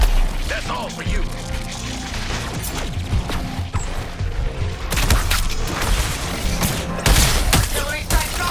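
Artillery strike explosions in the Suicide Squad: Kill the Justice League video game during a Flash and Superman Brainiac boss battle: dense, loud rumbling blasts and rapid gunfire layered continuously, with repeated booming impacts throughout.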